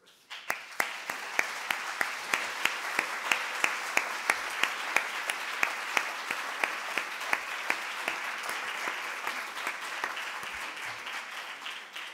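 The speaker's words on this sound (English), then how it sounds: "Et l'applaudissement vous fait voir comment qu'on apprécie votre conférence." Audience applause following a conference talk in a session hall, steady sustained clapping from a sizable crowd lasting about twelve seconds with no voices over it.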